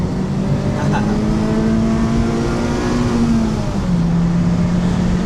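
A Honda VTEC engine drones at a steady high rev, its pitch holding and then dropping slightly as it shifts, loud and close with no talking.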